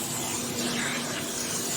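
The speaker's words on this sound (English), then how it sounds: "I kind of just have the vacuum running, and I'm just going over the carpet" A carpet extraction vacuum runs steadily over carpet during a low-moisture urine spot treatment, giving a continuous close, loud hiss and rush of suction with no pauses.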